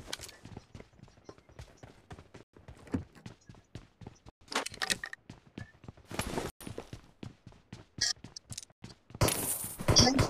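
Rapid bursts of video game gunfire, sharp cracks in quick succession, fairly quiet at first with denser, louder volleys toward the end.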